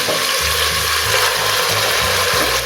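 Marinated chicken for biryani hits a hot pan and sizzles loudly and steadily, with stirring and scraping bumps underneath, no voices.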